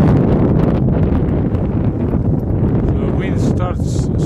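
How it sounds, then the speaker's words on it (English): Wind on a mountain ridge on a hot day in Kananaskis, a steady loud buffeting roar across the microphone throughout, with faint higher sounds near the end. "The wind started to pick up a tiny bit."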